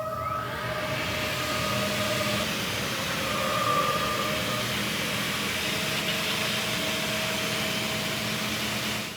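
A Tomcat walk-behind floor scrubber runs with its scrub, water and vacuum functions all switched on, giving a steady, loud motor and suction drone with faint tonal whines throughout.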